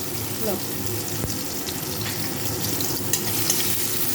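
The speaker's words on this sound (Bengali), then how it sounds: "টমেটো আর লঙ্কাটা অনেকটাই ভাজা হয়ে এসছে এর মধ্যে দিয়ে দেবো আমি পরিমাণ মতো হলুদ" Tomato and green chili frying in oil in a pan as turmeric is added, a continuous close sizzle with occasional stirring scrapes and clinks.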